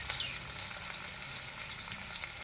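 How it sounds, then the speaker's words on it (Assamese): Sliced onions and green chillies fry in hot oil in a pan, a constant close sizzle and crackle with no voices. "পিঁয়াজ জলকীয়া আগতে তেলত ফ্ৰাই কৰি লওঁ।"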